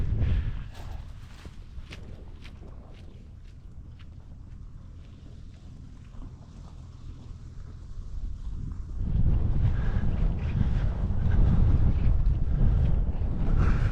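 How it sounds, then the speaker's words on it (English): Strong wind and rain at a paragliding site buffet the microphone in a steady roar, swelling louder and rougher about two thirds of the way through, with no talking. "It's miserable and wet and windy and everything."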